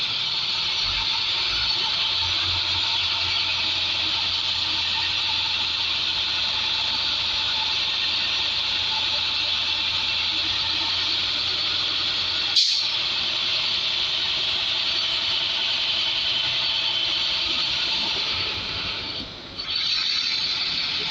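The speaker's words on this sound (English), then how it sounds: "I will speed up the process by accelerating no more than 1500 RPM" A Class A truck engine revved to no more than 1500 RPM to build brake air pressure during a pre-trip inspection makes a steady, loud droning roar. A sharp click comes near the middle, and the sound dips briefly near the end.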